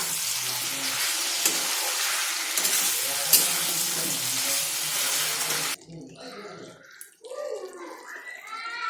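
Raw tomatoes hitting hot oil in a chicken curry pan, a loud dense sizzle that drops abruptly partway through into quieter bubbling and stirring.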